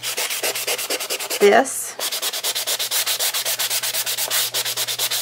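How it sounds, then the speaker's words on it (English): Cardstock being sanded on a clipboard: quick, steady back-and-forth rubbing strokes in an even rhythm, close and fairly loud, with one brief louder scrape partway through. "Remember to sand down, because you don't want to peel your cardstock back up."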